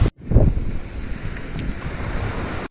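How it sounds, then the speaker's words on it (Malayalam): Cool wind blows steadily at a Ganpatipule beach, roaring against the microphone as a continuous gusty rush with faint surf underneath. "ഇങ്ങനെ ഒരു കുറച്ച് തണുപ്പുള്ള കാറ്റ് ഇങ്ങനെ അടിച്ചുകൊണ്ടിരിക്കുന്നുണ്ട് എപ്പോഴും"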